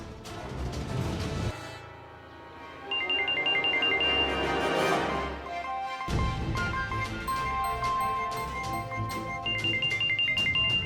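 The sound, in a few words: mobile phone ringtone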